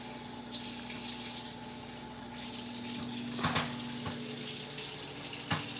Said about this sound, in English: now we put water in here